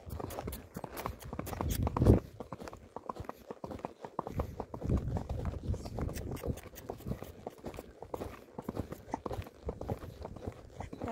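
A horse's hooves clip-clop steadily at a walk while it is ridden outdoors, a close, fairly loud rhythmic patter of repeated hoof strikes with a sharper thump near the start and no talking.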